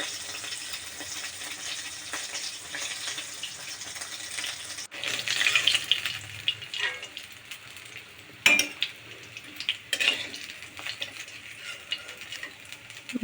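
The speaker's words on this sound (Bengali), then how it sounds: "মাছগুলো ভেজে তুলে নিলাম।" Fish frying in oil in a pan, a steady hiss and crackle of sizzling that grows busier midway, close up with occasional clatters and scrapes, and no talking.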